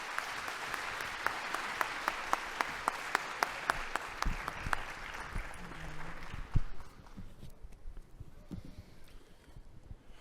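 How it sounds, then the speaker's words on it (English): Applause from an audience at a dairy forum, a steady patter of clapping with distinct individual claps punctuating it, gradually thinning out and fading toward the end amid some low room noise. "Let's give Secretary Vilsack a round of applause"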